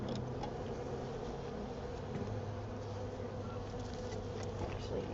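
Honeybees hum in a steady, dense drone throughout at an open live hive during an inspection, with a low rumbling background underneath.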